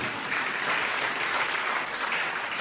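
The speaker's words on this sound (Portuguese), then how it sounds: "glorificando a Deus com suas palmas" A church congregation claps together in praise, a steady, dense wash of applause filling the room at even loudness without letup.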